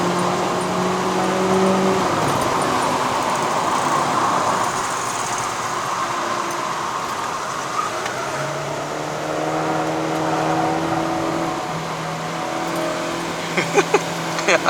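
The engine of a 2012 VW Polo sedan 1.6L drones steadily as it climbs a hill road toward Genting, Malaysia, with the pitch shifting through gears, heard from inside the cabin under a constant rumble of road and wind noise.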